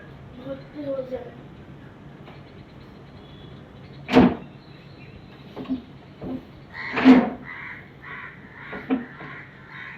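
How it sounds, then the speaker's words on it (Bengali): A crow caws twice in loud, sharp bursts about three seconds apart. Quieter household knocks and scrapes fill the gaps, and there is some soft background talk. "দেখ না কাকটা আসছে।"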